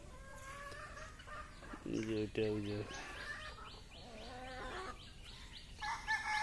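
Native chickens, chicks and a rooster cluck and cheep in a poultry batch, with a burst of louder clucking midway and scattered high peeps, while a person talks over them.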